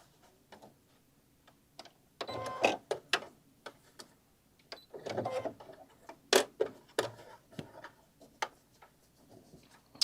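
A sewing machine stitches the lining of a handmade wine carrier in two short mechanical bursts, separated by scattered clicks and handling taps at close range.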